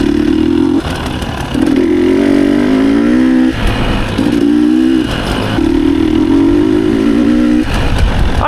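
Motorcycle ridden in fourth gear at wide open throttle during low-speed skills drills in Arizona, a loud steady engine drone with pitch rising and falling across several pulls, broken by brief clattery dips between throttle surges.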